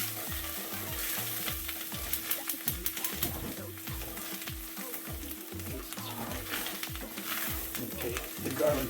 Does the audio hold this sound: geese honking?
no